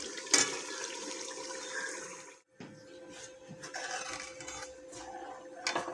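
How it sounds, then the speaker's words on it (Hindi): A mixture of lassi and gram flour poured into a cooking pot for karhi, a steady liquid pour with a brief pause and a few clinks of the pot. "मैंने इसमें लस्सी और बेसन जो मिक्स करके रखी हुई थी वो डाल दी है"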